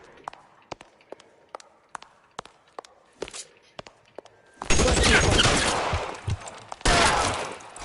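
Gunfire in the LA Noire video game: a sparse string of sharp single shots or thuds, then a dense, loud burst of rapid fire that pauses and resumes near the end.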